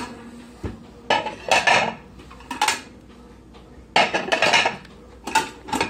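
Ceramic plates and cutlery clattering as they are loaded into a Brastemp 14-place dishwasher, several sharp clinks and knocks in irregular clusters, close and moderately loud.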